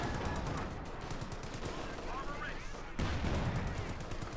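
In a Company of Heroes 2 battle, a Sherman tank fires amid dense gunfire and explosions, a busy mix of bangs and rattling shots under a caster's steady commentary.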